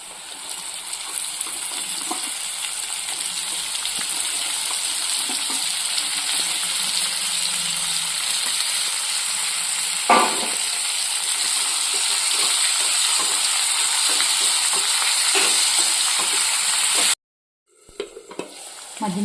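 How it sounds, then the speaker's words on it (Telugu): Chopped capsicum fries in a pan for a dal-powder fry, giving a loud, continuous close sizzle with occasional stirring clinks, until it cuts off abruptly near the end. "ఇప్పుడు మనం కట్ చేసి పెట్టుకున్న క్యాప్సికమ్ అయితే వేస్తున్నాను"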